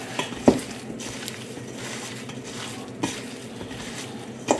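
Chicken wings being mixed with seasoning in a bowl, a continuous soft rustling stir broken by a few clacking knocks of a utensil against the container, moderately close.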